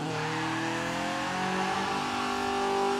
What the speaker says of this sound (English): It's a little wheel spin